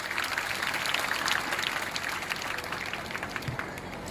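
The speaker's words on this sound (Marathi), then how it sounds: "सर्वप्रथम टाळ्या यांच्यासाठी" Audience applause for archery competition medal winners at a felicitation event in Digras, a steady, dense wash of clapping holding at even strength throughout, with no voices over it.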